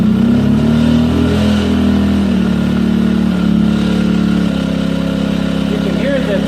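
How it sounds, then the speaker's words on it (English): Champion 2000-watt portable generator with its engine running loud and steady, the note rising as it revs up under load and then settling into a harder-working drone; a little talk sits over it. "You can hear that the engine revved up and it's working a little bit harder"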